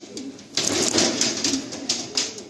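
Madrasi pigeons in a loft coo and flutter nearby, with several wingbeat bursts over a low, continuous cooing murmur.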